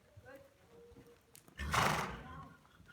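A horse works at walk and trot in a schooling session, with a loud snort or blowing breath near the end over soft background movement, close by.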